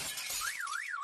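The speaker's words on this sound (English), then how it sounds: "that is the sound of that branch coming down on your truck parked in the driveway" Sound effect of a big tree branch crashing down onto a truck parked in a driveway: a short, bright, shattering crash with hiss, followed by a warbling, alarm-like tone.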